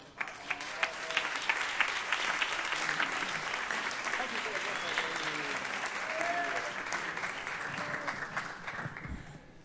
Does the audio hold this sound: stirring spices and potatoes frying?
no